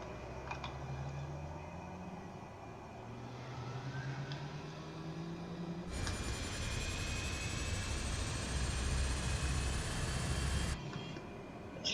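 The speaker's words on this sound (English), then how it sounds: "It's a turboprop engine, this one. It's a slow to start." A Cessna C208 turboprop engine starting up slowly: a low whine builds, then a loud broadband roar surges in and holds steady before easing back, heard close from inside the aircraft.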